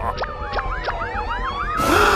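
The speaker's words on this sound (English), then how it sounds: "Finally, the police car arrived, and Bluey and Bingo are safe now." A toy police car siren wails in quick rising and falling sweeps, close and steady for a couple of seconds before a brighter burst of noise at the end.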